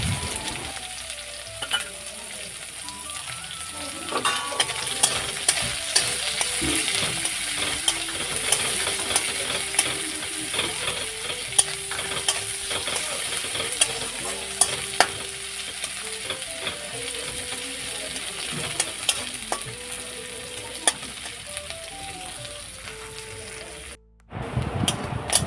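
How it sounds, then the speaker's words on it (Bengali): Crushed garlic and onion frying in hot oil in a pan, a steady close sizzle with occasional stirring scrapes and clinks, ending with a brief dropout and a louder clatter. "আমার পেঁয়াজ আর রসুন লাল লাল করে ভেজে নেওয়া হয়ে গেছে"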